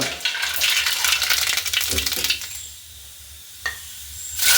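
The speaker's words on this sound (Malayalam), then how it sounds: "നമ്മൾ എണ്ണ തിളച്ച് കടുക് ഇടണേ" Mustard seeds spluttering and popping in hot oil in a pan while preparing a Kerala-style pickle, a dense crackling sizzle that fades out midway, followed by quieter pan noises and a brief stir.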